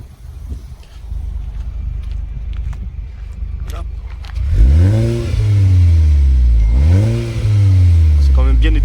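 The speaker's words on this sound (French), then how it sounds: "On va faire voir le son de l'extérieur. Tiens, t'accélères s'il te plaît" Volkswagen Golf 6 R engine heard from outside the car, idling under wind noise and talk before two strong revs rise and fall in pitch, loud and close.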